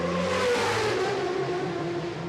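A racing motorcycle engine at the Isle of Man TT howls past nearby, its high whine sliding gradually downward in pitch as it passes, loud and alone.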